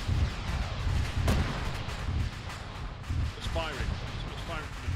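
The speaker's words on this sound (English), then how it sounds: "No, that's the thing that's cooking off, blowing up." Vehicle cooking off and exploding in Arma 3, heard as a dense, rumbling battle din with a sharp blast near the start and steady low booms, while voices talk over the top.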